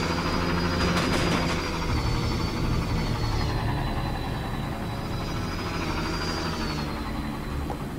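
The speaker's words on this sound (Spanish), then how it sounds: "Y me quedan tres helicópteros todavía por derribar." Helicopters in the video game Borderlands 2 drone with a steady rotor and engine hum beneath game noise, a brief burst of sharp effects early on and a whining tone rising and fading over it.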